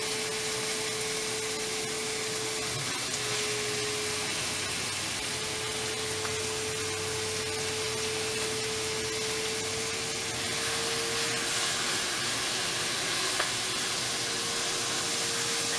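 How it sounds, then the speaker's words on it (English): A steak sizzles in a pan on top of garlic and onions, giving a steady, loud hiss with a faint constant tone underneath and no talking. "now I'm just going to place my steak right on top of those"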